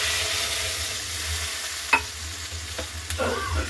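Fish curry masala of cooked-down spices sizzling and being stirred in a pan as water is poured in, soft frying hiss with a few sharp clinks and bubbling near the end.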